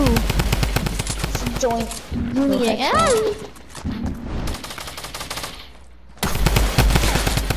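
Rapid automatic gunfire from Fortnite weapons during squad play, loud bursts at the start and end with a lull in the middle, while players talk and shout over it.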